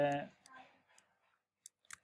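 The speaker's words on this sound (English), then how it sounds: "I'm typing a length here like" Typing a value into a field on a computer keyboard while building Django models; a voice briefly speaks at the start, then a few sparse, crisp, close clicks follow in near silence.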